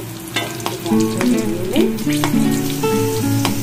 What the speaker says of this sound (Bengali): এই তেলেই ফোড়নটা দিয়ে দিচ্ছি, কালো জিরে আর কাঁচা লঙ্কা